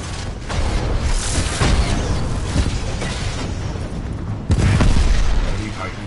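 A Titan being destroyed in the Titanfall 2 story campaign sets off a loud, sustained rumbling explosion with heavy low boom, then a second swell of blast later. A voice speaks over the noise.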